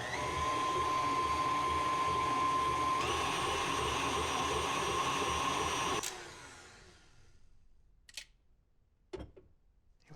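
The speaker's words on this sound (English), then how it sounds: "And I'll just blend this for a second." Electric mixer blending cupcake batter with vanilla bean paste runs as a steady, fairly loud whirring hum for about six seconds, then spins down and stops, followed by a few faint clinks.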